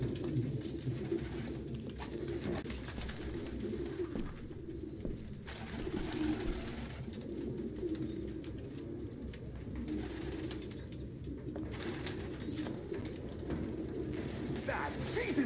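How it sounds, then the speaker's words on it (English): Pigeons in the video game Detroit: Become Human, several birds cooing softly and repeatedly in a quiet room, with occasional brief low murmurs between the calls. "No human could live with all these fucking pigeons."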